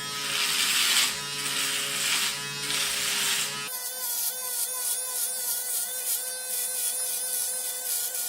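A Panasonic electric shaver buzzes steadily in use on a face, its motor hum shifting in pitch partway through as it presses against stubble, close and loud with no talk.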